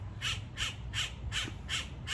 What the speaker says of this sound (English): The birds are showing up.